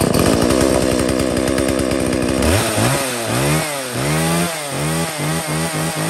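A Swedish-made Husqvarna chainsaw runs loud and close, a steady two-stroke drone that shifts into repeated revs rising and falling in pitch.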